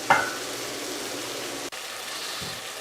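Onions frying and caramelizing in a pan on lowered heat, a steady soft sizzle running evenly throughout with one brief pop near the start.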